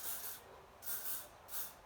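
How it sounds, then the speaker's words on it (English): Elnet extra strong hold hairspray for color treated hair sprayed onto hair in three short hissing bursts with brief pauses between, close and fairly soft. "Okay, so then I'll give it a little spray."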